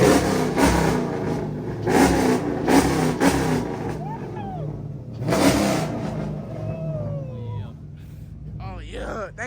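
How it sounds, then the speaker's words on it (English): A car engine revs at a car meet in Houston, Texas, with loud bursts of revving that rise and fall several times, heard close among crowd chatter and people talking throughout. "Hey, James, record me while revving it, bro."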